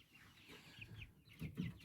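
Soft, low clucking from young chickens, including a young white rooster, a few short murmured calls rising slightly louder toward the end, fairly quiet and close.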